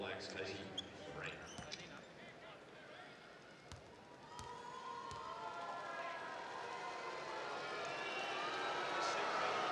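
Dense, steady roar of a basketball arena crowd during a 2006 Tall Blacks vs Boomers game in Melbourne, building gradually toward the end, with whistles, squeaks and scattered shouts sitting on top.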